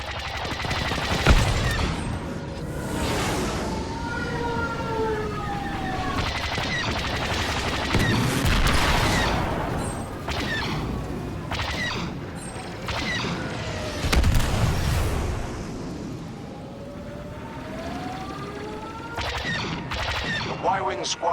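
Y-Wing squadron bombing run in a Star Wars starfighter assault video game, a dense barrage of blasts, booms and laser fire with roaring engines throughout, under a voice announcing battle updates.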